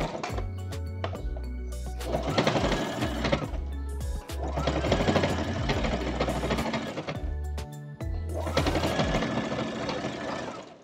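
A sewing machine runs a straight stitch along a bralette seam in three loud, fast mechanical bursts, with brief pauses between runs.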